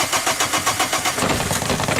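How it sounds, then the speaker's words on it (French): A diesel engine turns over and catches after brake cleaner is sprayed into the air filter intake, started without preheating the glow plugs; a steady rhythmic cranking and running chug, loud and close, with no talking. "Démarrez le moteur sans attendre et sans préchauffer les bougies."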